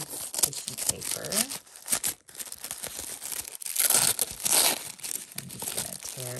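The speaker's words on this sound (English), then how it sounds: "I'm just gonna tear." Trollbeads tissue paper wrapping around a gift box is crinkled and torn open up close, a continuous rustling and ripping with brief louder tears and a short pause partway through.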